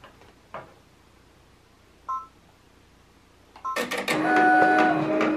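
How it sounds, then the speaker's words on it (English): A computerized embroidery machine begins stitching the outline of an applique onto a shirt, starting with a few faint isolated clicks and beeps before a loud, dense, steady mechanical whirring and rapid stitching rattle takes over. "so now we're just gonna go ahead and let it start stitching out."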